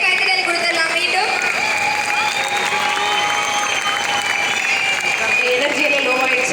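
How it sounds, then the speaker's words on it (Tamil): An audience at an award ceremony in Chennai claps steadily and fairly loudly throughout, with voices carrying over the applause. "ஒரு பெரிய கைத்தட்டல் கொடுத்துடலாம்."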